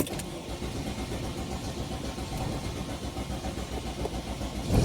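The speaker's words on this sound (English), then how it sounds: "I'm going to start the engine." A Mercedes Sprinter van engine cranks and runs with a dense, steady mechanical rumble from close by, swelling slightly louder at the very end, with no talk over it.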